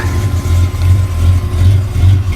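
A 454 big-block V8 in a 1984 Monte Carlo SS with true dual exhaust and 123,000 miles idles loudly up close with a lumpy, uneven rumble that rises and falls in a steady loping rhythm.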